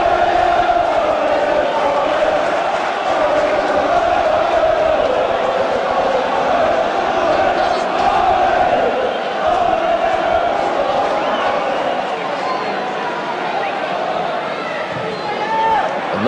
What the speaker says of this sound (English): a crowd behind the goal, as you can hear, trying to lift Gravesend to find a second goal in this cup tie